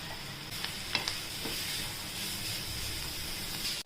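Grated beetroot sizzling with garlic and green chillies in a hot pan, a steady close frying hiss broken by a few light stirring scrapes.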